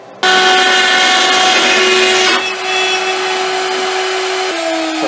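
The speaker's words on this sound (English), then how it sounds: "18 millimeter depth cut with a 4 millimeter one flute at 4 meters a minute." A router makes an 18 mm deep cut with a 4 mm single-flute bit, a loud sustained high whine with a grinding bite into the wood that shifts pitch midway and near the end.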